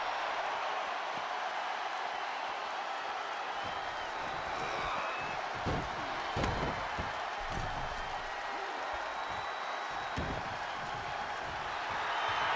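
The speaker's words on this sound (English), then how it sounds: "The sound of this crowd is deafening, and he's asking for more." A wrestling arena crowd cheers in a constant loud roar throughout an intergender match, with sharp thuds and impacts cutting through the wall of noise.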